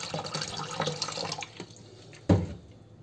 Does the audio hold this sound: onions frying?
no